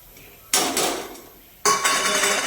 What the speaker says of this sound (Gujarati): એડ કરીને ફાઇન મિક્સ કરી દઈએ બધા મસાલા।